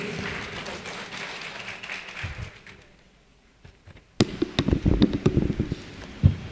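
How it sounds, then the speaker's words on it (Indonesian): Audience at a university rector candidate panel session breaking into scattered, uneven clapping after a quiet stretch, fairly faint and irregular, with some soft talk earlier. "Kita tepuk tangan untuk Ibu Sri."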